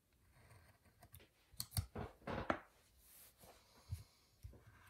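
Scissors snip the corner of a paper planner page in a quiet room, making a short cluster of close, crisp clicks and cuts, a few louder snips near the middle, then softer handling sounds.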